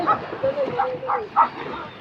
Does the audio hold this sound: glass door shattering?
no